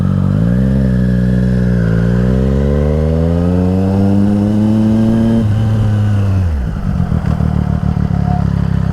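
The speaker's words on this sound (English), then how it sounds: "let's just do some emergency braking. But I'm gonna do it from like 40 miles an hour" Motorcycle engine climbing steadily under acceleration to about 40 mph, then dropping sharply as the rider brakes hard, ending in a low, uneven idle; loud and close.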